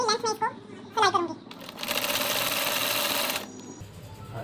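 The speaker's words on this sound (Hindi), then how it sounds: "अब मैं पूरी लेंथ में इसको सिलाई करूंगी" A sewing machine stitches lace along a length of fabric in one steady, close, whirring run of about two seconds. Someone speaks briefly before it starts.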